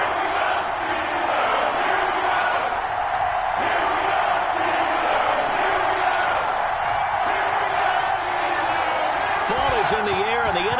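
An NFL stadium crowd roars and cheers at a Cleveland Browns versus Pittsburgh Steelers game, a dense, sustained wall of noise with a broadcast commentator talking over it.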